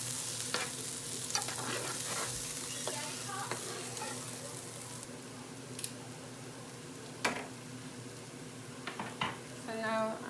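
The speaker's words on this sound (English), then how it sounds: "Okay, you cook the flour a little." Flour cooks with meat for green chili (chile verde) in a frying pan. A soft, steady sizzle runs throughout, broken by occasional light clinks and scrapes of stirring.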